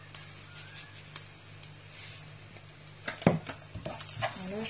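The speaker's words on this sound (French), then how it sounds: "Voilà, je mélange." A spoon stirs a spiced rice mixture in a pan for Lebanese rice, giving soft scraping and a faint sizzle, with a few louder clinks and scrapes near the end.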